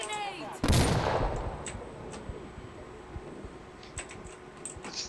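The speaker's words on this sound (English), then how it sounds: "Throwing flash grenade!" A flash grenade detonates in the shooter game Insurgency Sandstorm: one sudden, loud, sharp blast that decays into a lingering high ringing tone, with faint clicks and scattered game sounds behind it.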